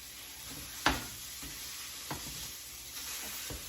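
Breakfast sausage sizzles steadily in a frying pan while a utensil breaks it apart. A sharp scrape stands out near the start, and lighter stirring knocks recur over the constant close hiss.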